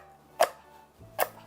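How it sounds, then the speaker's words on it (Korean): A knife mincing garlic cloves on a cutting board gives two sharp, separate chops about 0.8 seconds apart, close and crisp against a quiet background. "마늘은 칼로 꾹 눌려갖고 잘 자르게 다질 겁니다."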